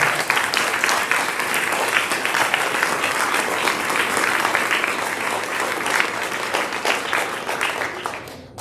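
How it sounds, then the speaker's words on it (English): Audience applauding a DARE officer at an elementary school DARE graduation ceremony, sustained dense clapping filling the room at steady loudness for the whole stretch, fading slightly at the end. "Let's give him a good rousing round of applause"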